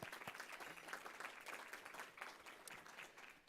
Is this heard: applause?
yes